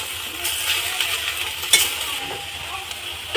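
Ingredients for an ol (elephant foot yam) leaf bharta fry in a pan with a steady close sizzle, a stirring scrape and one sharp utensil clink partway through.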